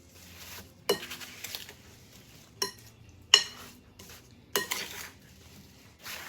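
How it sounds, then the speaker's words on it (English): A spoon clinks against a pot and scrapes through apples in caramel pie filling, giving several sharp metallic knocks spaced apart over a quiet background. "I'm going to go ahead and finish stirring up my apples"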